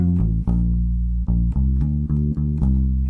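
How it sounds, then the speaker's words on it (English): An electric bass plays a worship-song lick of scales and arpeggios leading back into the intro of the song: a steady string of distinct plucked low notes, clear and close with no other instruments. "we're going to try a nice lick using sort of scales and arpeggios to get us back into the intro"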